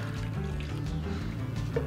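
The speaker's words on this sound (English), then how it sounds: "you want to add about 3/4 of your water" Water poured steadily into a poolish pizza dough mixture, a soft continuous trickle and splash heard close up, faint, with no talking.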